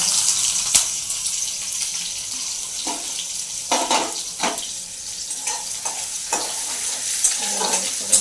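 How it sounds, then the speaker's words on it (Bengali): Onions frying in hot oil in a pan for an egg and potato curry, a steady moderate sizzle with soft stirring clinks and scrapes scattered throughout, heard up close. "এবার আমি পেঁয়াজটা একটু বেরেস্তা করে নেবো, ভেজে তুলে নেবো"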